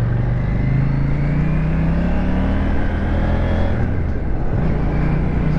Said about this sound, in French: Le son de la moto de base et d'origine est vraiment top